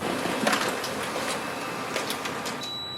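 A Canon imageCLASS MF451dw laser printer running a print job, giving a steady whirring mechanical hum with faint clicks and a thin high tone near the end.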